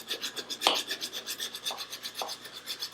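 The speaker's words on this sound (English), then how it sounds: "I'm going to start sanding that little sharp corner there" Steady back-and-forth rasping of sandpaper on a sharp wooden corner of a customized hand plane, a quick regular rhythm of strokes, close and fairly soft, with no voices.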